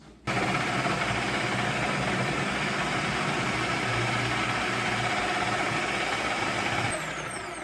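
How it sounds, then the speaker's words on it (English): A food processor slices mushrooms during home food prep, its motor giving a loud, steady whirring drone that starts abruptly and runs without a break for about seven seconds before easing slightly at the end. "let's get these in my processor and get them sliced"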